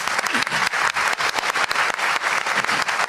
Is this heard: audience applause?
yes